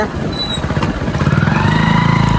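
A motorcycle engine revs and runs close up in a rapid pulsing chug that grows steadier and louder over the short span, with a voice talking over it.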